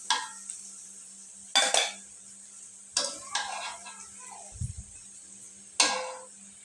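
Fried bitter gourd (korola bhaji) is lifted from a pan in a few separate bursts of scraping and clinking utensil against metal, with a faint steady sizzle in the quiet gaps between them.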